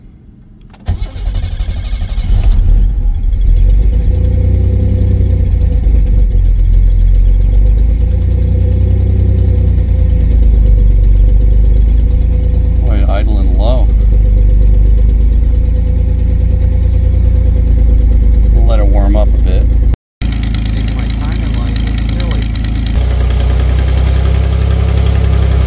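A cheap, well-used Pontiac Fiero GT engine idles steadily in neutral, loud and close for the whole stretch. The drone is interrupted only by a brief cut near the end, with no talking.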